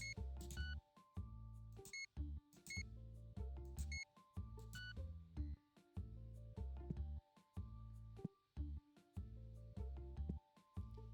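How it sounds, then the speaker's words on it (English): Electronic checkout scanner beeps from a shop counter in TCG Card Shop Simulator, sounding as repeated short bright bleeps in quick bursts over steady game music. "I just like the beeps."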